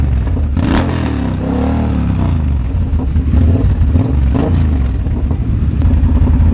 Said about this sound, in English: if a kid does the international rev your engine sign, you have to rev your engine